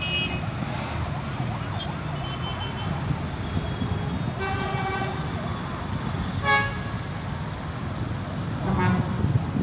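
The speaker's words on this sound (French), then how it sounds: "ça c'est les véhicules qui font le tour" Heavy road traffic circles the Akwaba interchange in Abidjan, a continuous wash of engines and tyres broken by car horns and a brief siren, moderately distant, with faint voices in the mix.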